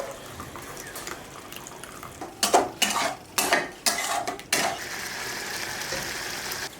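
Spiced masala for shahi paneer is stirred in a pan, with a run of about six sharp scrapes and clinks from the spoon against the metal in the middle, then a steady sizzle. No one speaks.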